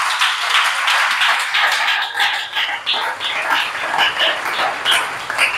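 A church congregation applauds and acclaims the Lord at a sermon, dense sustained clapping with scattered cheers filling the room steadily without pause.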